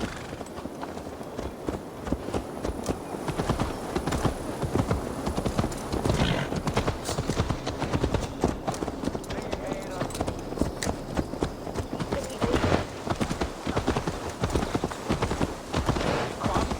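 Horse hooves clip-clopping steadily in the video game Assassin's Creed Valhalla, a continuous rhythmic trot close by, with voices talking over it throughout.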